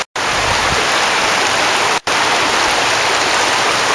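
Cold stream water rushing steadily across a valley floor in Norway's Rondane mountains, a loud, continuous broadband wash close by, broken by two brief gaps near the start and at two seconds.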